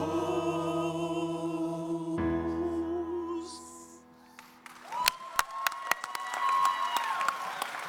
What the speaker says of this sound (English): Please continue applauding for Naveen Valecha, Chris Urban, Matthew Connerton, Kathy Faze, Rakesh James, Alex Burrows,